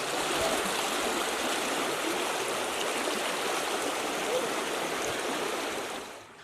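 River water rushes steadily past a collapsed gabion retaining wall on the riverbank, a dense, continuous broadband flow that stays loud and even before fading at the end.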